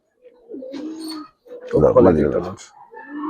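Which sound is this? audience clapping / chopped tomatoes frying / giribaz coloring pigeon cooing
giribaz coloring pigeon cooing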